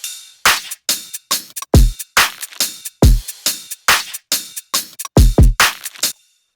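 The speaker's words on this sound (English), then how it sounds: "So this is what the drums sound like in the first drop." Drums from the first drop of the track ring out loud and alone, punchy kicks and sharp snappy hits in a syncopated bass-music rhythm with short gaps between them, before cutting off abruptly.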